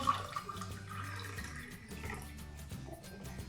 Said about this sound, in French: tu te verses le verre d'eau